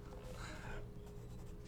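A pencil scratches softly on paper in quick short strokes while drawing wavy lines, faint and close, with a low steady background hum.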